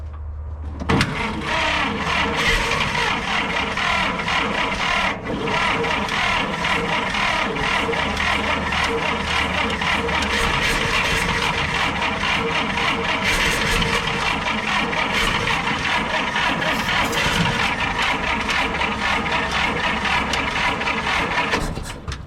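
An old Dodge WC54 engine fires up after a shot of ether and settles into a steady, loud, rough running clatter that continues alone without pause.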